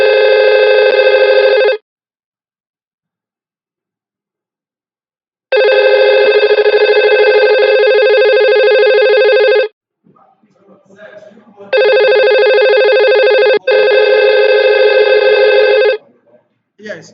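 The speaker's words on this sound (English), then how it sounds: "So whilst it's ringing like this, Kwame is calling Abba, then Abba will pick it." IP phone ringing in Cisco Packet Tracer network simulation software; loud electronic ring bursts of a few seconds each, separated by silent gaps, with a brief stretch of faint talk between rings.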